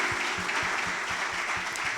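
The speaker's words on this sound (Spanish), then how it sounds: "Dale un fuerte aplauso al Señor." Audience applause fills a church service right after a prayer led by a pastor, a steady, dense wash of clapping that holds at an even level throughout, with faint low thumps underneath.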